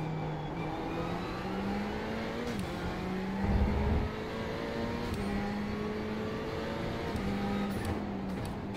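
Steady engine drone of a GT3 race car on track in iRacing, an IMSA sportscar event at Montreal, with rising and falling gear-shift pitch sweeps and another car audible nearby, continuous and loud throughout without talk.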